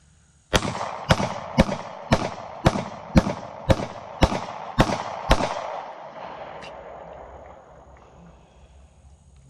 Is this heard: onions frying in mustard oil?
no